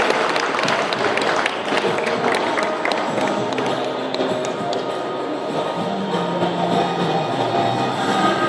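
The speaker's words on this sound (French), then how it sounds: "nos applaudissements sont mérités" Audience at a horse show applauding a rider and her horse, loud, sustained clapping from a large crowd in an indoor arena, easing slightly midway before swelling again.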